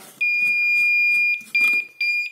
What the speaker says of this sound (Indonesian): Jadi kalau ingin mematikan alarmnya lagi, cukup dipasang kembali buzzernya ya.